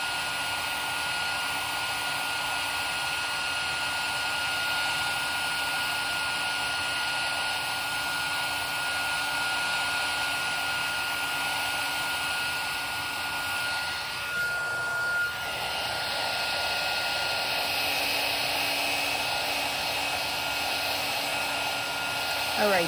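Steady, loud blowing roar of a heat embossing tool melting distress embossing glaze on a craft surface, running continuously with a brief dip partway through, no talking.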